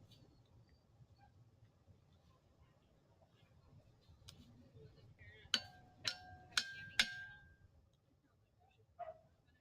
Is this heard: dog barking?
yes